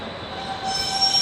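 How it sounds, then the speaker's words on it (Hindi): A train pulling out of Bareilly Junction hums and rumbles steadily, with thin high squealing tones from the wheels on the rails rising slightly toward the end of the short stretch. "बरेली जंक्शन से गाइस हम डिपार्ट कर चुके हैं"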